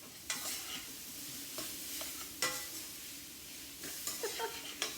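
Julienned vegetables stir-fried in oil for a beef, broccoli and noodle dish give a soft, steady sizzle, broken by several sharp scrapes and clacks of a utensil against the pan.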